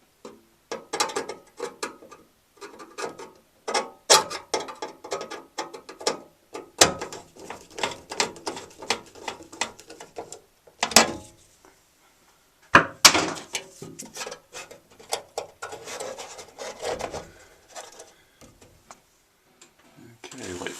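A screw is driven back into the housing of an old Broan bathroom ceiling fan, giving a run of irregular close ratcheting clicks, scrapes and sharp knocks with brief pauses, and no speech over it.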